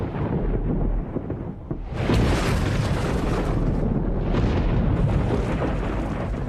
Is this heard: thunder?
yes